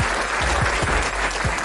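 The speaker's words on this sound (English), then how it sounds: "Let's give his brother a round of applause." Brief applause for a player's brother during an NFL draft review talk show, a short dense patter of clapping with a few heavier claps standing out.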